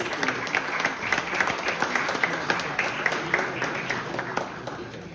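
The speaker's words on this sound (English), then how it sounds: "A huge round of applause" An audience at a university conference valedictory applauds in a steady, moderately loud round of clapping, with faint voices mixed in.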